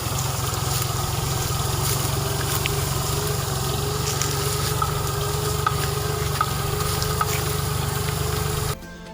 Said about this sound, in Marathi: पाच एकर सोयाबीनच्या उभ्या पिकावर ट्रॅक्टर फिरवला आहे